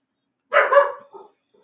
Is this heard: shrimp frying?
no